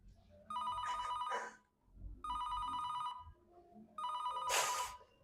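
A phone rings three times in bursts of about a second each, with short pauses between them and no answer, loud and close. A quiet voice comes in under the end of the ringing.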